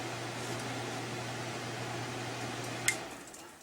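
An RV air conditioner fan humming steadily with a low droning tone and soft airflow hiss, faint and close, until a small click near the end as the unit cycles off.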